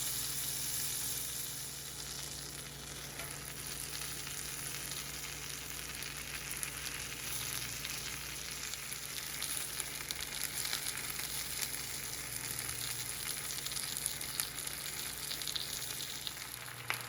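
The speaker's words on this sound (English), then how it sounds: "Our spinach should just be gently turned with some tongs." Fresh spinach sautéing in butter with crushed garlic, a soft continuous sizzle held at low level throughout while the greens are gently turned with tongs.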